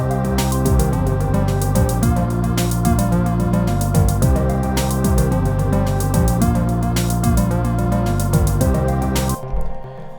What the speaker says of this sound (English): So, simple little 2-measure beat.